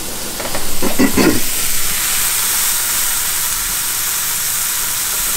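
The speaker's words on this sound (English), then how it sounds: "So we'll cook up this little patty and see how we're doing." A small venison summer sausage patty drops into a hot pan with a brief burst of noise, then settles into a loud, steady sizzling hiss that carries on alone.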